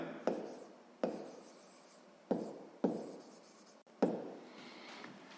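Pen strokes on paper while working a sixth-grade maths exercise: several short scratchy bursts of writing, each starting with a sharp tap and trailing off, quiet and close, with pauses between.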